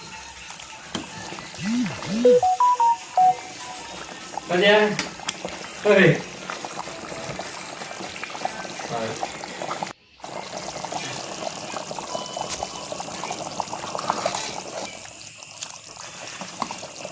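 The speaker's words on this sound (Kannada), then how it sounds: "ನಾನು ಹುಣಸೆ ಹಣ್ಣಿನ ರಸವನ್ನು ಹಾಕ್ಕೊಳ್ತಾ ಇದ್ದೇನೆ." Tamarind juice is poured into a pot of chicken curry, the liquid splashing and trickling briefly into the simmering curry. Voices talk at times and kitchen clatter is heard alongside.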